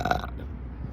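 One brief, close, guttural burp from a sick person, low and rumbling, lasting about a second.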